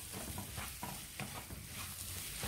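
Masala is sautéed and stirred in a pan for chicken Mughlai, a soft continuous frying hiss broken by scraping stirring strokes, fairly quiet and close, with no talking.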